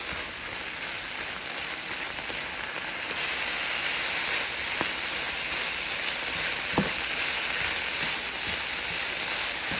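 Collard greens sautéing in a skillet, a steady close sizzle and hiss like light rain that swells slightly louder partway through, with a few faint clicks of stirring and no talking.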